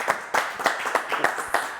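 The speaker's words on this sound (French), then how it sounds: "Alors, on l'applaudit." A small audience claps during a live music talk show, with a brief burst of irregular handclaps that is moderately close and has no voices over it.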